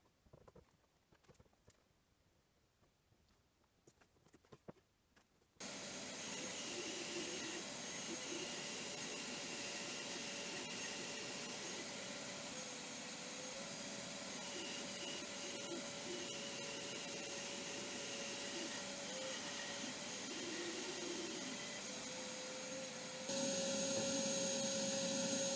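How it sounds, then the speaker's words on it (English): A bandsaw cuts through two wooden pieces glued together with double-sided tape for a garden stool, a loud continuous whining drone with a steady tone that runs unbroken for about twenty seconds after a quieter start. "I can cut out the shape on my bandsaw on both pieces"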